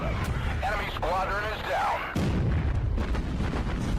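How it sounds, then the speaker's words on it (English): Heavy cruiser hit by a warship explosion in the naval combat game Battlestations Pacific: a sudden loud boom near the two-second mark gives way to a dense rumbling roar, with an earlier stretch of voice-like sounds. "Ooh, there was a big hit. Did you see that explosion?"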